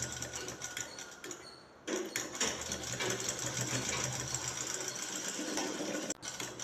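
A sewing machine stitches a shirt collar band in a close, continuous mechanical whir, briefly easing off near the start and again just before the end.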